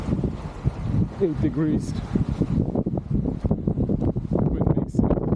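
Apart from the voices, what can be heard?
high wind outdoors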